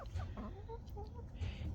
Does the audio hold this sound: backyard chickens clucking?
yes